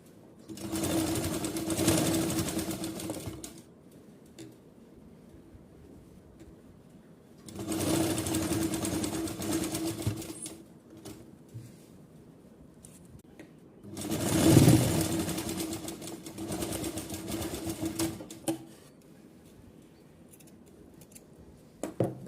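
A sewing machine stitching a folded-in neckline on a designer party-wear blouse runs in three loud, steady whirring bursts of a couple of seconds each, separated by quieter handling pauses.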